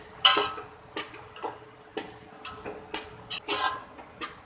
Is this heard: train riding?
no